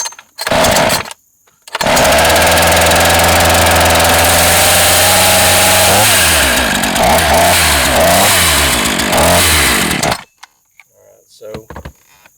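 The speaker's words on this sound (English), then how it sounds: "All right, so it ticked over. I'm going to turn it to about half choke right there." A NEO-TEC NH 841 gas chainsaw fires up after a short false start and runs loud and close at half choke, holding a rough, buzzing drone for about eight seconds before cutting out abruptly.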